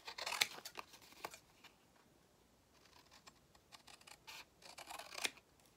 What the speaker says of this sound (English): So I think we'll just use the scissors.